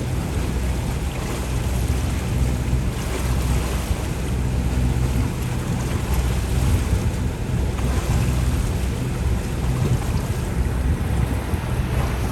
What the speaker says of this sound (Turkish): Hafif bir dalga var. Tam kafadan geliyor rüzgar.